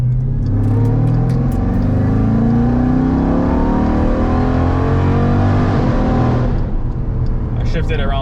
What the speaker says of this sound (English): I'm at 4th gear, around 1800 RPM, and then we'll do a full throttle pull.